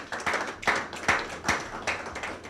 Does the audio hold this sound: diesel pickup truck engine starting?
no